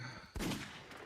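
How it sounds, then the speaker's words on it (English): A sharp, loud video game gunshot bursts in suddenly after a quieter stretch, with its reverberant tail and rumble lingering to the end; a single close blast. "I love that his gun sounds"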